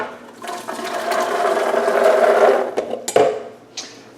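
Navy bean soup with ham is poured into a blender jar as a thick, sloshing rush of liquid for a few seconds, followed by a couple of clunks from the pot or jar.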